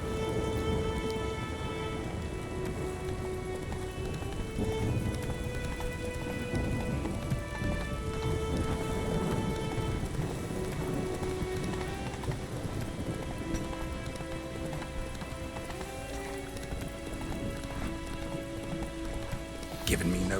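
Horses galloping in a chase through The Witcher 3, with steady, dense hoofbeats running under continuous game music and ambience for the whole stretch, while someone talks over it.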